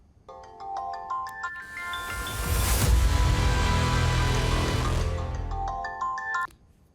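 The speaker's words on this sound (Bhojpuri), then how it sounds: "केकर फोन है? उठा लो।" A mobile phone plays a melodic ringtone: tinkling chime notes swell into a fuller, louder passage in the middle, then the chimes return before it cuts off, with no talking over it.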